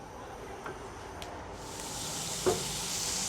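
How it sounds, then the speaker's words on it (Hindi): An ingredient, about one and a half teaspoons, is sautéed lightly in a pan for homemade pizza sauce, giving a low steady sizzle that swells a little partway through, with a single soft clink near the end. "इसको हल्का सा सौते करेंगे हम।"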